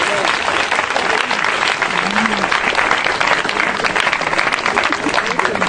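Church congregation clapping and cheering in acclaim of Jesus Christ, loud sustained applause from a crowd filling the whole stretch, with voices mixed in.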